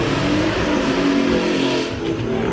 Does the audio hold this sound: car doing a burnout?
yes